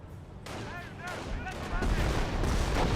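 Artillery barrage in the World War II strategy game Company of Heroes: repeated booming impacts and rumbling explosions building in loudness over several seconds, with whistling shells and a voice talking over them.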